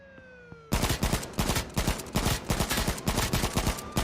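AK rifle gunfire from the video game H1Z1 starts abruptly after a brief quiet lead-in, then continues as loud, close, rapid repeating shots in uneven bursts to the end.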